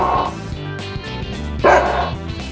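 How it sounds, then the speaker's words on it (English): A dog barks close by, a series of sharp, loud barks over a few seconds with one louder yelp near the end. "Dog."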